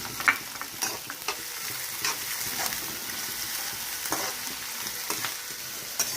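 Onions and green chilies fry in a pan with a steady close sizzle, broken by occasional stirring scrapes and small crackles throughout.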